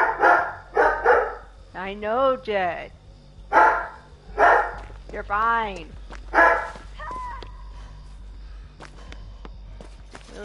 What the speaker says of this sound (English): It's just a neighbor's dog.